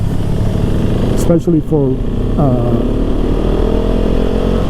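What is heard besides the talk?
2021 KTM 690 SMC R motorcycle engine while riding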